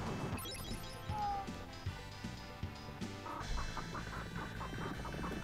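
Chickens cluck in the SNES video game Sunset Riders, short fowl calls set against busy game music, with smashing hits and sound effects.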